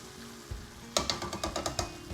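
A spoon stirs a pot of chili made with canned diced tomatoes and tomato sauce: a soft start, then a few quick wet scraping, sloshing strokes in a rhythmic burst close up, with no talking.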